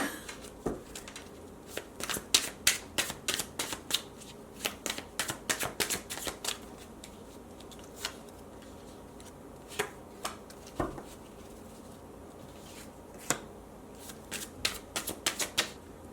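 Tarot cards being shuffled in bursts of quick riffling flicks and soft slaps, close and fairly quiet, with irregular pauses between handfuls.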